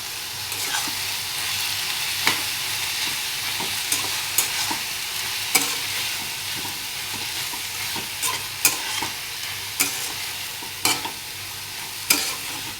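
Green onion leaves and tomato sizzle steadily in a frying pan while a spoon stirs them, scraping and clicking against the pan at irregular intervals, close and without talk.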